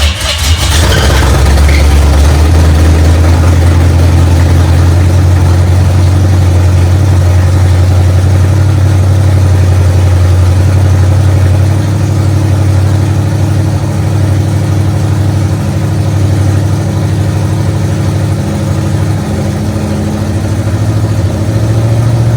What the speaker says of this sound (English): Let's crank it up again and see if we can get it to run for an extended period of time.